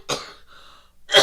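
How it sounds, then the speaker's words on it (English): A person coughs sharply, pauses with a faint breathy wheeze, then lets out another harsh cough. "I'm about to have a cough attack"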